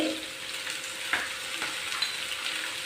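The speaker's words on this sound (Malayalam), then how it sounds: "മൂന്നോ നാലോ രണ്ട് കറിവേപ്പില ഇത്രയും ചേർത്ത് നന്നായി വഴറ്റിയെടുക്കാം" Chopped ginger, sliced green chilies, garlic and curry leaves sauté in a pan for beef pickle, a close, steady sizzle with stirring scrapes and a few louder clicks of the spoon.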